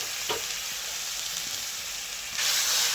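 Ginger paste sizzles in hot oil for a Bengali fish curry, a close, continuous crackling hiss that swells louder near the end as it is stirred.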